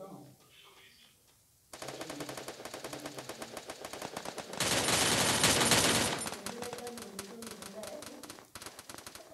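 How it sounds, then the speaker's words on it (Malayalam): Gunfire in the Free Fire mobile game: rapid automatic bursts crackle continuously and loudly, swelling into a dense volley before easing, with a player talking over the shooting. "അയ്യോ, ഇതിപ്പോ എവിടെ നിന്നൊക്കെ വെടി വരുന്നത്"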